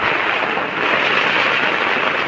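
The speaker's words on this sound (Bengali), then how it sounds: "মুষলধারা বৃষ্টি হচ্ছে" Heavy torrential rain pours down in a dense, steady roaring hiss, loud and close, with no letup and no voices over it.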